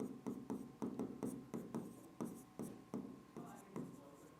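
Pen or chalk strokes writing notes during a physics lesson on wave optics, a steady series of short scratchy strokes repeating roughly every half second, close and clear, with a low background hum.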